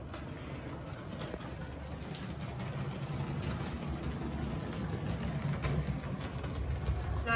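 Model train running along a layout track, a faint continuous low rumble with light clicking, steady and close, slowly growing a little louder.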